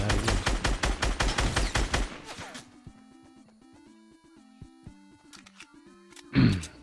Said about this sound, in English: Oh, I'm getting shot at again.